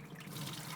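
Rinse water being drained from a pot or strainer during cooking, a short rushing, splashing pour heard close and steady with no talk.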